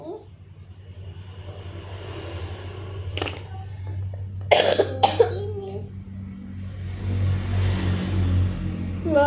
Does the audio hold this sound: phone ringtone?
no